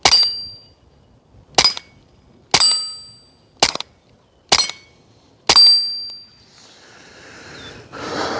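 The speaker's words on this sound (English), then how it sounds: "let's try to put a shot on steel" Six sharp suppressed rifle shots with Resilient Suppressors, each cracking out alone about a second apart, several followed by a bright metallic ring from a struck steel target, then a faint hiss trails off.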